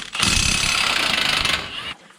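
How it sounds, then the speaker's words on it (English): A power tool, likely an impact wrench, hammers at a 24 millimeter bolt on a 2006-2010 Ford Explorer during CV axle work, producing one loud, close, rattling burst of about a second and a half that then cuts off. "I'm going to try to remove this 24 millimeter bolt"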